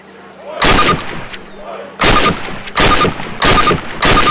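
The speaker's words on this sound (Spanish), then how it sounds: "Acérquese a la valla y dispare 6 tiros contra su objetivo" Five sharp, loud rifle shots in Call of Duty training ring out one at a time with short pauses between them, each trailing off in a brief echo.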